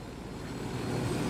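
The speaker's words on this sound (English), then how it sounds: "I'm going to land the helicopter down over here somewhere." A helicopter in the video game Ghost Recon Wildlands flies with a steady, low, rumbling rotor drone, faint and continuous without any talk.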